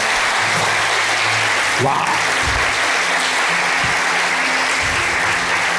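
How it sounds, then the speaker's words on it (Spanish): An audience in a church teaching session claps loudly and steadily, a dense close crowd of applause, with a voice briefly exclaiming partway through. "Eso merece un aplauso."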